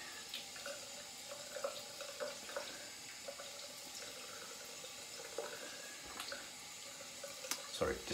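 Tap water runs steadily into a sink as a razor is rinsed during a straight-razor shave, with faint clinks and splashes over a soft, continuous flow and no talking.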